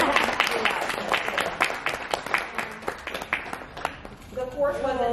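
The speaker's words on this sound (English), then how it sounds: "So I'd like to give them another round of applause for their" Audience applause during a course event in the Dominican Republic: scattered, moderately loud handclaps rising and thinning across the room, with voices talking over and between the claps.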